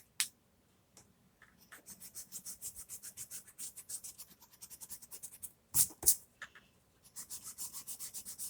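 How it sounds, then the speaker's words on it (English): A fine liner pen scratches over lines on paper in quick, repeated short strokes, close and quiet, with brief pauses between runs of strokes. "I'm just going to go over those lines with the fine liner"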